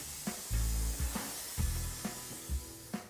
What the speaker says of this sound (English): Then spray the adhesive along the edge of the floor, taking care not to spray it onto the walls.